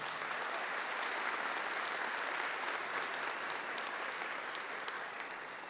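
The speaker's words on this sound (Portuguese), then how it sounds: "Vamos dar uma salva de palmas para quem está em casa?" Church congregation applauding during a service, a continuous even patter of many clapping hands at moderate distance, slightly fading toward the end with no speech over it.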